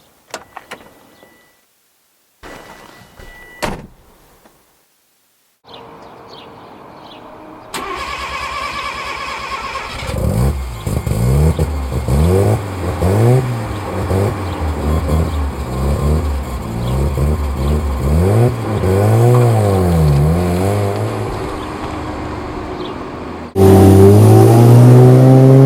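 A first-generation Mazda RX-7 rotary engine cranks and starts after a few clicks, then the car pulls away and drives, its engine note rising and falling through repeated revs and gear changes, loud and close.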